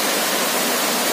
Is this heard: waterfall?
yes